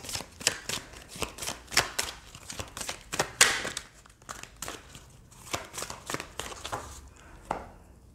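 Tarot cards are shuffled close up, producing a steady stream of crisp papery riffles and slaps in quick irregular bursts, with no talk over them.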